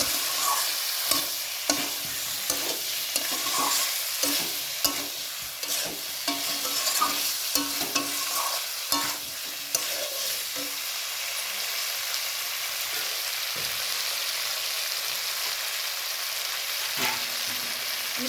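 Spiced potatoes and peas for aloo dum fry in a pan while being stirred, giving a steady sizzle broken by frequent scraping and clattering strokes of the spoon, close and fairly quiet.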